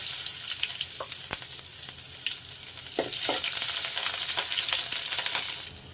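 Chopped onion sizzles and fries in hot oil in a wok, a steady close crackle with a few sharp pops and stirring scrapes, growing louder partway through, with no voices.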